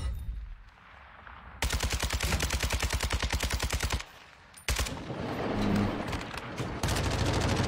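Rapid automatic gunfire hammers into a training dummy in a video game, two long sustained bursts of evenly spaced shots, loud and close, separated by a short pause.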